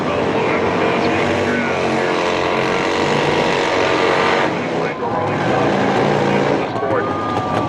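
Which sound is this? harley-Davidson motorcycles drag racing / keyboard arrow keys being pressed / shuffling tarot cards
harley-Davidson motorcycles drag racing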